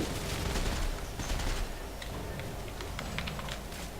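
Dense, continuous gunfire rattles in the horror video game Awakened, rapid overlapping shots forming a thick, sustained roar that stays loud throughout the few seconds.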